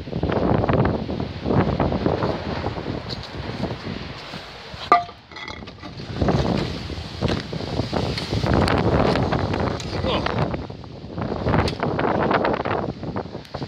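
Strong gusty wind sweeps past outdoors in Essex, buffeting the microphone in loud roaring surges that rise and fall, with a sharp clink from something knocked about in the middle.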